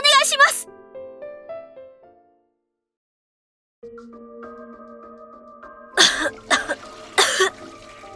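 Several harsh coughs break out in quick succession near the end, following a soft melodic tune and a stretch of silence.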